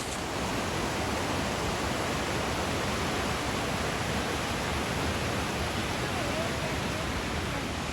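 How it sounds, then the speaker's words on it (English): A waterfall and creeks rush below through the woods, a continuous, even roar of flowing water heard from a distance, with no voices or other sounds. "the waterfalls are right below us through the woods"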